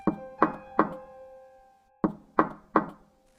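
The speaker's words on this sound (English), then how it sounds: "Not the doorbell, knocking." Knocking on a front door, two bursts of three slow, deliberate raps separated by a pause, close and clear in an otherwise quiet room, used as a horror story sound effect.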